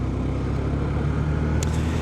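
A motorbike on a short ride to fill up with petrol: a steady, loud engine rumble with a low, even drone throughout and no voices.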